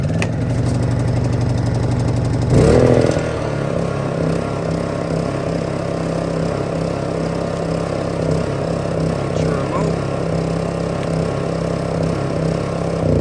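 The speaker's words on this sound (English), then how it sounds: "I'm gonna turn this on, turn the choke on, give it a couple pulls" A Honda generator engine catches after a pull-cord start and runs at a steady, even idle, a close continuous mechanical drone with a brief louder burst near the start.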